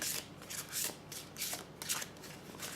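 Oracle cards being shuffled for a reading, with a steady series of quick, close riffling bursts repeating throughout.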